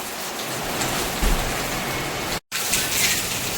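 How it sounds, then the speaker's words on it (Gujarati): Rain pours down as a steady, dense, close hiss of drops on surfaces, broken only by a momentary cut of silence near the end. "તો જો વરસાદ શરૂ થઈ ગયો છે"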